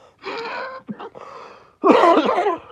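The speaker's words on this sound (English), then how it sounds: "I'm surprised it took me that long to cough." Harsh bursts of coughing near the mic, a couple of short fits with a brief pause between them, the second louder and rougher.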